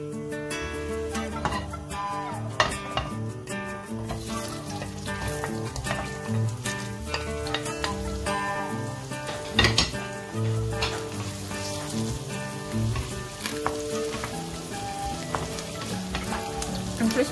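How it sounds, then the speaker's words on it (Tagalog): Pork belly sautés in a pan, a steady close sizzle and crackle of frying with occasional clinks and stirring knocks, continuing throughout at moderate level without speech. "Diyan na tayo magigisa."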